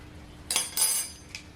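A spoon clinks against a container twice in quick succession, then a lighter tap, while colorant is added to green soap batter for Christmas soap; crisp, close, fairly quiet clinks.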